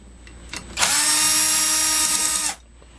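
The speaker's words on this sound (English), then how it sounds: "we have to get another little special wrench here and take the last two little screws out" A power tool, likely a drill-driver, runs steadily for just under two seconds while removing the last two small screws from the bridge rectifier of a GM CS144 alternator being rebuilt, with faint handling noises before and after.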